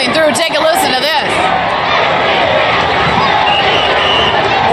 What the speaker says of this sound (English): They just in unison just start yelling things and getting an MVP chant